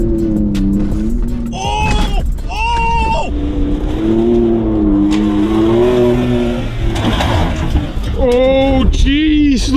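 A Ford Raptor truck launches over a crest and lands, its engine roaring loud and near, while people shout and exclaim excitedly over it.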